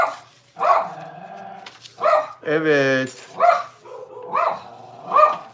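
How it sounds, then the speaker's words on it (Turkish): A dog barks a few times out on the street in the background while someone talks over it. "Sokaktan köpek sesi geliyor"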